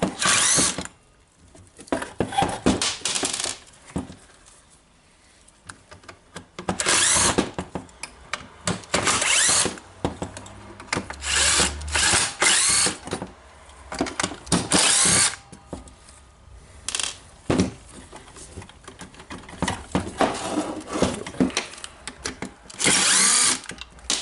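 A Makita DDS501 18V cordless screwdriver drives screws in repeated close, loud whirring bursts separated by short pauses during reassembly of its carbon brush holder unit.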